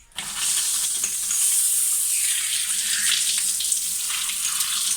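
Shower water running at home: a steady, close, full hiss of spray that continues throughout the clip, with slight shifts in tone as the stream moves, and no talk.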